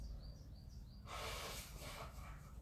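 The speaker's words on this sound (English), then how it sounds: "Let me just blow my nose first." A person blows their nose once, a brief, faint burst of breathy air after a quiet moment, heard indoors with no talking.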